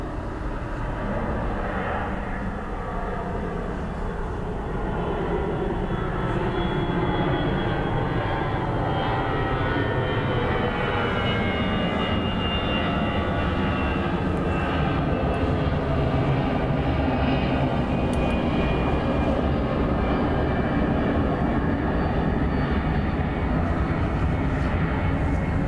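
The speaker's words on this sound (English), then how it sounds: "Aer Lingus has gone around in the cloud." An Aer Lingus airliner performs a go-around at Dublin Airport in low cloud and poor visibility, its engines a broad, steady roar that holds loud and continuous throughout, with no voices.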